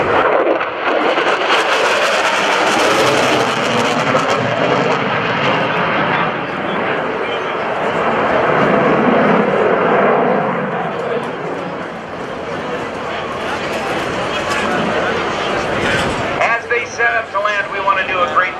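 US Navy F/A-18 Super Hornet at the NAS Oceana airshow sweeping through a carrier break, a loud sustained jet roar that swells and fades as it passes, with an announcer talking over it.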